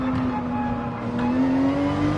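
A race car engine in Gran Turismo 7 online racing drones loud and close with a steady high pitch that climbs slightly as it revs, with no talk.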